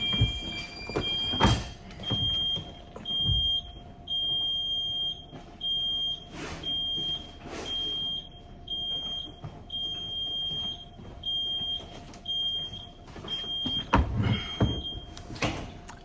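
A smoke alarm goes off indoors, sounding a run of short, regular high-pitched beeps that repeat steadily through the whole stretch, with some knocks and rustling mixed in.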